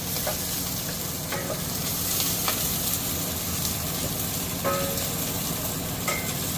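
Tomatoes sizzling in a pot over browned onions while sinigang is cooked, a continuous close frying hiss with occasional stirring scrapes.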